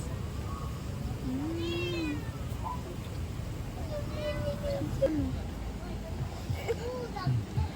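A cat being fed in a rural West Sumatra setting gives several drawn-out meows, faint to moderate, spread across the clip with voices talking in the background.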